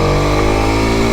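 A Kawasaki Ninja 125 motorcycle pulls away in first gear on a small housing estate, its engine a loud, steady, close-up hum revving fairly high for a slow speed, with no talking.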